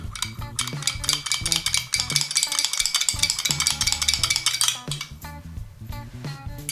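A tablespoon stirring inside a container, bright rapid metallic clinks and scrapes in quick bursts, close and fairly loud with no talking.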